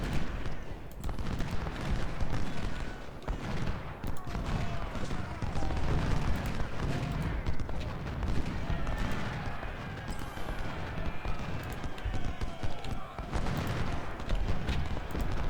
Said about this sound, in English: I don't like getting lit up by this artillery like this.